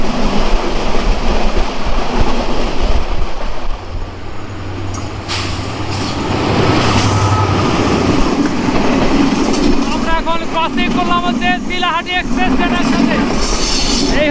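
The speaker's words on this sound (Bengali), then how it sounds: "আমাদের পরিবার এক্সপ্রেস ট্রেনটি এখন পঁচাত্তর আশি পঁচাশি কিলোমিটার স্পিডে যাচ্ছে" The Parabat Express runs at about 75 to 85 km/h, a loud, constant rattle and rumble of carriages on the rails with squealing wheels, while someone talks over the noise.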